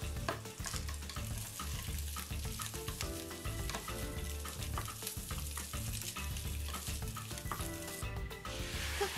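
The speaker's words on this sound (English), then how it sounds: "Bring the spam over the pan and cook it." Spam slices fry in a pan with a steady sizzle and frequent scraping stirs, with no voices.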